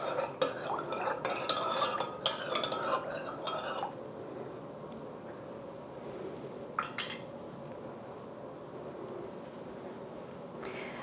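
A spoon stirs salt into lukewarm water in a bowl for vegan cinnamon roll dough, clinking quickly and closely against the sides for a few seconds before settling into fainter scraping and an occasional tap.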